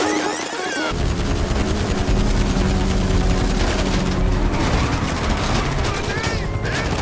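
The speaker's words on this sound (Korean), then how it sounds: "헬기를 AP 피스톨로 격추시킵니다." An AP pistol fires at a helicopter in the GTA5 video game, loud rapid bursts of shots that run almost continuously over game noise.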